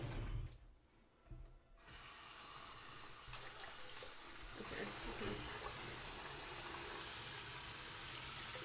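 Tap water runs steadily into a container, a continuous broadband rush that starts after a brief quiet moment and keeps going at a constant level, with faint voices in the background.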